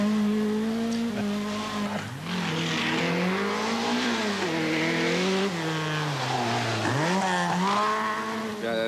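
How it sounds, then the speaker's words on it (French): A Citroën Visa four-wheel-drive rally car runs a stage of the 1985 Monte Carlo Rally, its engine loud and close with steady rising and falling revs and shifting pitch throughout, briefly dipping as it changes gear. "de Jean-Claude Andruet, ici au volant d'une Visa 4 roues motrices"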